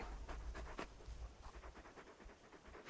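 Torgal, the large dog in Final Fantasy XVI, pants softly in quick, steady breaths, faint and close, with no speech.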